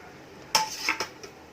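A spoon clinks against a bowl while prawns are mixed into a marinade of egg white, lemon and spice powders: a few sharp, close metallic taps spaced over a quiet background.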